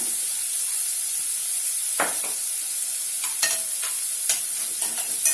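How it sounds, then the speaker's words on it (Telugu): A tablespoon of ghee sizzles in hot oil with onions for egg biryani, making a constant bright hiss, and a few scraping knocks come through as the pan is stirred. No one speaks. "ఇప్పుడు దీంట్లోకి ఒకటి టేబుల్ స్పూను నెయ్యి వేస్తున్నాను"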